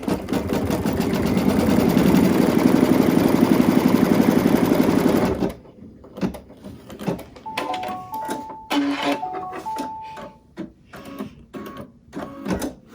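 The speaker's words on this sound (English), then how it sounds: "I'm just going to stitch the tack down now" A home embroidery sewing machine stitches a tack-down on an in-the-hoop zipper bag, running loud and steady for about five seconds, then stopping; quieter handling noises and a few short tones follow.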